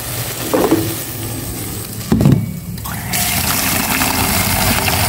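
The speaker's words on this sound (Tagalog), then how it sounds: "Ayan na po yung tubig" Water pours into a cooking pot in a home kitchen after a couple of clanks, first a brief splash, then a steady, close stream of filling that continues to the end.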